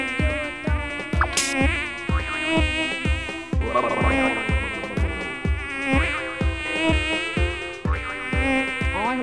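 Many houseflies buzz steadily and close, a dense continuous drone with a rhythmic low tapping running beneath it throughout.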